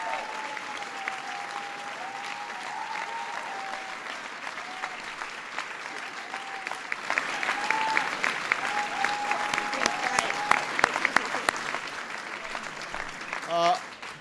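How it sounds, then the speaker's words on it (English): A White House reception crowd applauds steadily for more than ten seconds, swelling in the second half, while a voice carries over the clapping. "Please give Steve a big round of applause."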